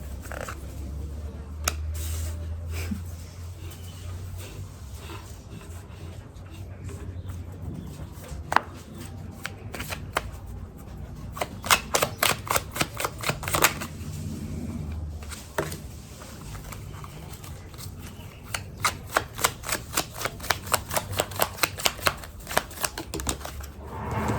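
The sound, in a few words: tarot cards being shuffled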